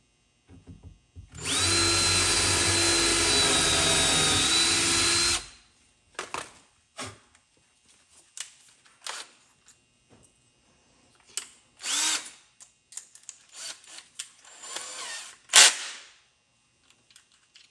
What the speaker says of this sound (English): Pre-drill it.